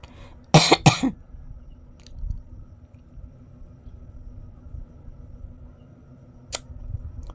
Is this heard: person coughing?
yes